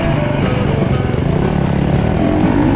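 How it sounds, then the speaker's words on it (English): A loud car engine in the TORCS racing video game drones steadily at high revs, buzzing and unbroken, close up with no speech. "You can hear Andy revving at me."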